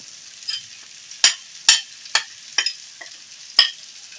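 Ground spices hit hot oil and tomato in a pan for egg curry, giving a continuous sizzle broken by sharp, irregular crackles and spatters, close up with no voices.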